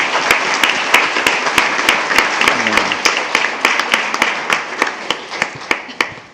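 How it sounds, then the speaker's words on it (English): Applause breaks out at a regular board meeting, a steady spread of hand claps from a room of attendees with a few sharper individual claps standing out, moderately loud and close, lasting throughout. "we can give you an applause right now"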